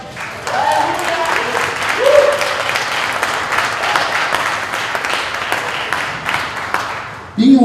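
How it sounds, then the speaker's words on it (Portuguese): A church congregation applauds during a sermon, with dense, sustained clapping filling the space and a few voices calling out early on, before the clapping fades and a voice returns at the end. "Você pode aplaudir o Senhor?"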